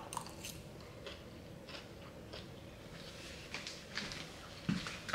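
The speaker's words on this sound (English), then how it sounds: "I'm sorry if I'm chewing so loud." A person chewing food loudly close to the mic, with soft wet crunching and squishing bites repeating irregularly over quiet room noise, no talking.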